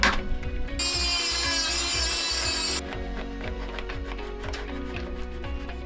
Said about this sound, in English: We're gonna just fill them in with rivets.